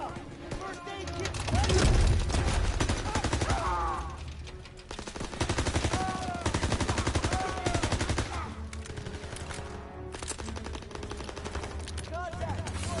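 Rapid gunfire in Call of Duty WWII, machine-gun bursts and single shots crackling in repeated volleys throughout, mixed with game sounds and voices talking over the fighting.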